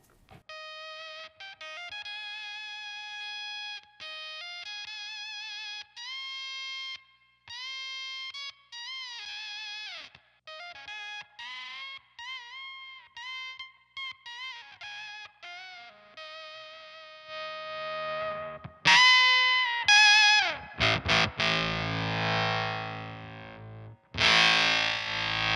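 A guitar effects pedal with a faulty swell circuit sputters through choppy, distorted tones that start and cut off unevenly, then bursts into harsh, noisy, louder swells near the end; no talking.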